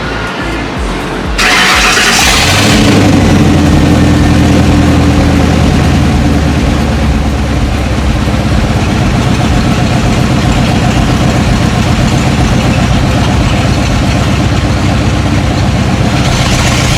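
A fuel-efficient V8 truck engine starts with a loud crank and catch, then settles into a steady, rumbling idle that carries on loud and close to the end.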